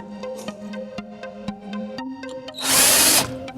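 A power drill drives screws into wood while building a decorative ornamented ceiling piece for a house: repeated short taps and motor pulses build into a loud sustained whine near the end, close by, with no talk.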